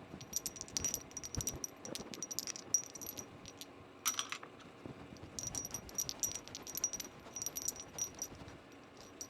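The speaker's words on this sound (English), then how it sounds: "do your keycaps sound like this when they collide with each other?" Small hard plastic keyboard keycaps clink and clatter together in scattered bursts, light and quiet, with short pauses between the rattling.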